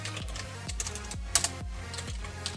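Computer keyboard typing heard up close, a short run of a handful of distinct, fairly loud keystrokes with uneven gaps between them.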